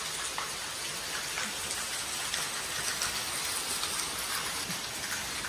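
Heavy rain falls steadily, a dense, even hiss of drops hitting surfaces that stays loud and unbroken throughout, with no voices.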